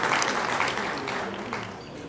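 A crowd at a formal cultural gathering applauds loudly and steadily, a close, even wash of many hands clapping that carries through the whole short stretch.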